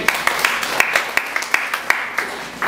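A church congregation claps in praise, sharp, evenly spaced claps in unison keeping a steady beat over about three seconds, loud and close.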